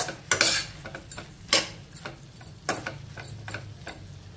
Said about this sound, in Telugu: ఇప్పుడు ఇదంతా కూడా ఒకసారి బాగా కలిపేసేసుకుందాము